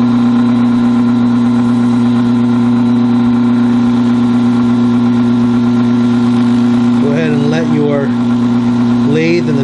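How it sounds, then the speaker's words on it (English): A wood lathe spins a Celtic-design bottle stopper during friction polishing with oil and wax, giving a loud, steady motor hum throughout, with a brief voice breaking in near the end. "Lathe and the turning speed do your friction for you"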